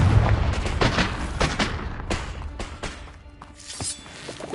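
A Confringo spell in the Hogwarts Legacy video game fires off a series of sharp, booming blasts, several loud bursts with crackling debris that fade between hits.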